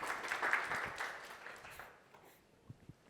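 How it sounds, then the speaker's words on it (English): Audience applause at a marketing operations professionals' panel, a quiet burst of clapping that tapers off into a few scattered claps near the end, heard from a distance. "Applause."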